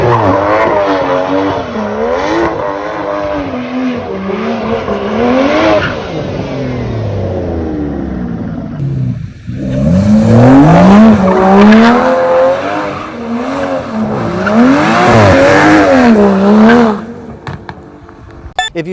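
An Aston Martin DBS with a twin-turbo V12 does donuts, its engine loud and close as it revs and rises and falls in pitch, while the tyres squeal continuously, with a brief lull midway before another hard, screaming run.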